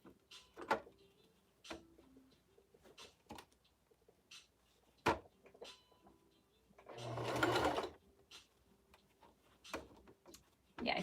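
A sewing machine stitches fabric for a Japanese knot bag wristlet in one loud sustained burst of about a second, with a person talking softly and brief clicks and handling noises around it.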